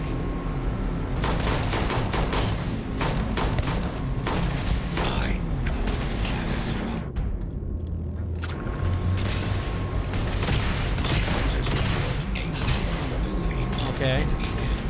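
Sustained gunfire in Starfield rattles in dense, rapid bursts with booms and mechanical clanks, loud and close, pausing briefly before resuming.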